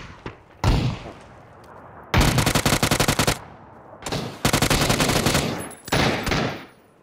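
Gunfire in the video game PUBG: Battlegrounds, several loud rapid automatic bursts of a second or so each, separated by short pauses, close and dominant with no speech over them.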